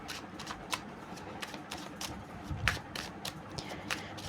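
Tarot cards being shuffled by hand, repeated quick riffling flutters and soft slaps in a steady rhythm, close up and without talking.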